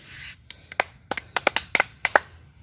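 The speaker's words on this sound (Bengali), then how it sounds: "ওর জন্য হাততালি দাও দুজনে" Children clap their hands at home in a Bangladeshi village, a quick uneven run of about a dozen sharp, close claps over a quiet background.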